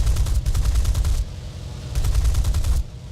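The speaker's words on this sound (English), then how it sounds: "You're about to see what happens when you have 4 cannons firing." In the War Thunder game, four aircraft cannons fire in two loud, rapid bursts of heavy thudding shots, each lasting over a second and separated by a short pause.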